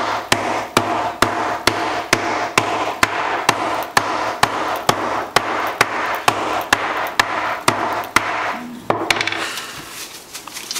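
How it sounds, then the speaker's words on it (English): Whole peppercorns are smashed with a rubber or wooden mallet, about twenty sharp, loud thuds at a steady, quick rhythm, close up, then a softer scraping and rustling of crushed pepper after the blows stop. "So I'm going to smash it with a rubber mallet, or wooden mallet."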